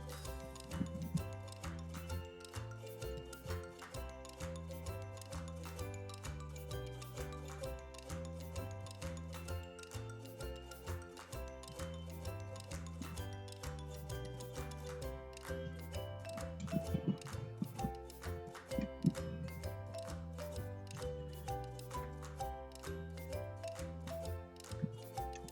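Paper shapes cut with scissors, a faint, close series of rhythmic snipping and crisp blade clicks repeating steadily throughout over a low background of music, no talk.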